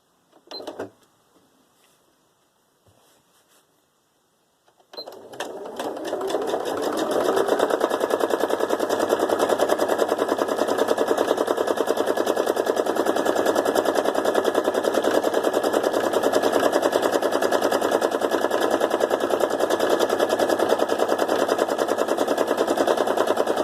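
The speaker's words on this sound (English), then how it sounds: "it's like drawing with the sewing machine" Sewing machine stitching fabric scraps together, a loud rapid continuous mechanical chatter starting after a few quiet seconds and running steadily to the end.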